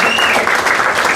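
Loud, sustained audience applause at a Bitcoin event, a steady wash of clapping from a crowd close by, with no voices over it.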